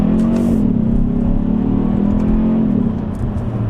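A 2022 Kia Stinger GT-Line engine drones steadily from inside the cabin while driving with manual shifts of its 8-speed automatic, the pitch holding then dipping slightly as a gear changes.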